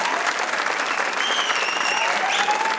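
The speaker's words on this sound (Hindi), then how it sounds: "गंदी बात पे आप लोग कितनी तालियां बजाते हो यार" A studio audience at a Pakistani comedy show claps continuously and fairly loudly, a steady wash of applause with faint crowd murmur and no break.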